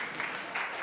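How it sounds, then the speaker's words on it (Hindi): Brief burst of audience applause from a Disney India television series, a dense wash of many hands clapping, steady and moderately loud. "एक बार फिर से ताली बजाओ।"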